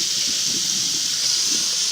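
Tap water runs steadily into a sink, a continuous close, fairly loud hiss and splash holding even for the whole stretch with no voices over it.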